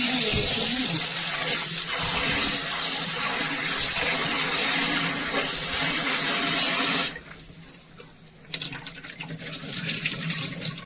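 Bitter gourd rinsed under a running kitchen tap, with a steady loud rush of water that drops suddenly near the end before splashing resumes more unevenly.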